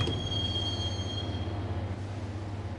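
A continuous high metallic squeal of train wheels on rails in the Max Payne game, sustained over a steady low rumble of the moving carriage, loud and close throughout.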